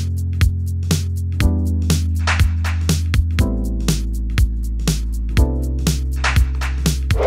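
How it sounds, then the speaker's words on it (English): FL Studio indie pop beat with a deep sine bass, synth chords and drums, the punchy kicks and crisp hits keeping a steady groove over a sustained low bass line. "Those three things together, the bass, the synth chords, and the drums"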